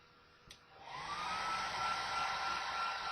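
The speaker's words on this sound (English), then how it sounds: "So we're going to go ahead and turn the hair dryer on and dry this off." A click, then a hair dryer whirs up and blows steadily with a constant high whine while drying a car dashboard, close and loud.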